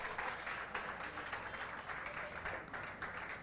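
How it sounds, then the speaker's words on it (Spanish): A church audience claps during a Spanish-language sermon, a soft, steady wash of many hands applauding at moderate distance, with no clear voice on top. "Denle la gloria a Dios y lo va a aplaudir."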